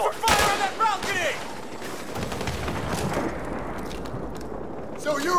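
Distant sustained battlefield gunfire and rumble in Call of Duty Modern Warfare Remastered, a dense rattle of shots under shouted voices at the start and end.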